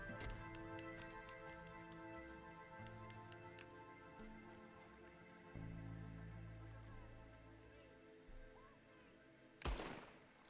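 Gunfire in Red Dead Redemption 2 comes as scattered, faint cracks over a low droning game backdrop, ending in one sharper, louder shot near the close.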